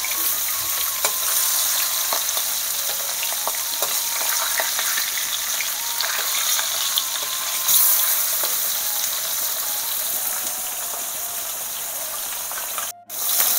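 Fish frying in a pan makes a loud, dense, continuous sizzle with faint spatters throughout and a brief dropout near the end.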